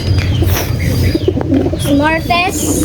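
Racing pigeons at a loft, with soft repeated coos close by under a person speaking casually.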